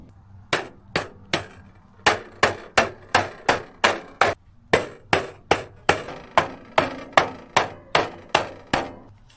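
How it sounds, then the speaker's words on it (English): Metal wire ends of an all-wire rabbit cage being bent and struck, about twenty sharp, evenly spaced metallic hits close by, with a brief pause partway, no talking. "I'm gonna go ahead and do the bending of the end inch."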